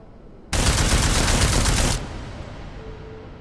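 Sustained automatic gunfire in Deus Ex: Mankind Divided, a loud dense burst of rapid rounds lasting over a second, then cut off into a quiet room tone.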